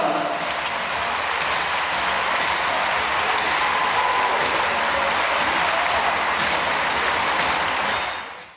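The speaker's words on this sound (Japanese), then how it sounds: "戦いました両チームの皆さん、今一度大きな拍手をお願いいたします。" An audience at a basketball championship quarterfinal gives sustained, dense applause for both teams, a steady roar of clapping that holds for several seconds before cutting off.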